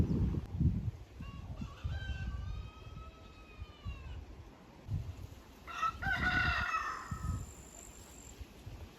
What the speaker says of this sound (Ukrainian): персидські півні.